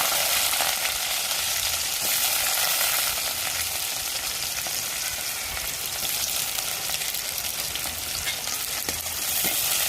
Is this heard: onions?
yes